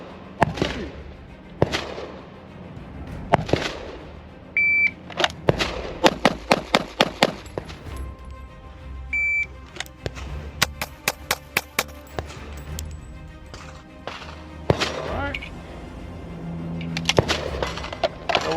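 A handgun fires during a range drill, with sharp reports ringing out singly at first and then in rapid strings of closely spaced shots, separated by short pauses.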